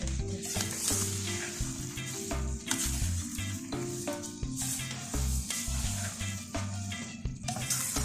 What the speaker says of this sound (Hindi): ये हमने इसमें चीनी डाली, अब हम इसको भूनेंगे।